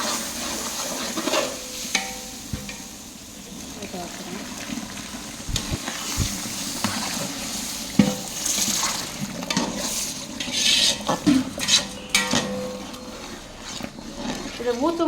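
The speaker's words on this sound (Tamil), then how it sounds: "இப்போது நம்ம சூடு பண்ணி வச்சுருக்க இந்த தண்ணியை வந்து ஆட் பண்ணுறோம்." Hot water poured into roasting semolina in a pan, bursting into a sizzle and hiss as it is stirred with scraping spoon sounds, while a person talks throughout.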